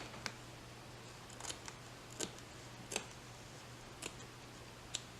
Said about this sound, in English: we have cut the extra fabric, and as you can see, it's cut very close